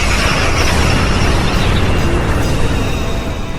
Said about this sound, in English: We've got to watch out for that heavy artillery fire.